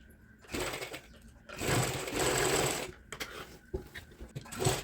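A sewing machine runs seam stitching along the side of a kurti in short bursts, motor whirring for a second or so at a time with brief pauses, close and fairly loud.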